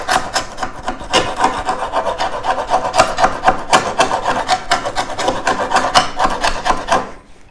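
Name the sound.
scraper scraping old flooring mastic off wood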